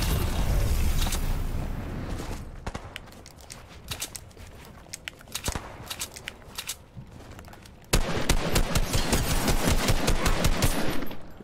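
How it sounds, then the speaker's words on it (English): Rapid gunfire in a Fortnite Battle Royale match, bursts of automatic shots in clustered volleys, then a loud sustained stretch of fast repeated firing near the end, with no talking. "Oh, gunshots, gunshots,"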